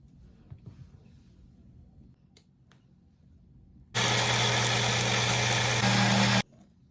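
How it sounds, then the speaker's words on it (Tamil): A mixer grinder blending mint and coriander chutney with lemon and water in its jar: a sudden loud, steady motor whir that runs about two and a half seconds, then stops abruptly, after quiet kitchen background. "இனி இந்த ஜாரில் போட்டு அரைச்சி கொள்ளுவோம்"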